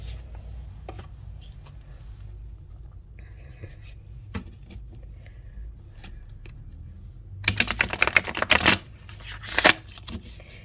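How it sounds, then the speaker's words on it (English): A special-order deck of playing cards with rainbow-colored edges riffled and bridged close up, a burst of dense crisp flutters followed by a shorter second shuffle, after quiet handling and faint tapping. "Shuffles nicely, and it has this beautiful rainbow edge."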